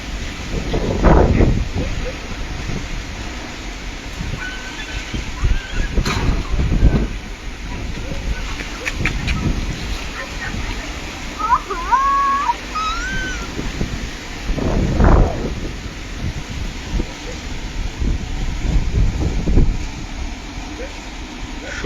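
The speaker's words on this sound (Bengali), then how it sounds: "হঠাৎ করে বিকেল 4টা নাগাদ দমকা হাওয়ায় কিন্তু অনেকটাই স্বস্তির নিঃশ্বাস।" Gusty wind rushes and buffets the microphone outdoors beside a pond on a hot afternoon. Loud rumbling gusts come and go over a steady background roar.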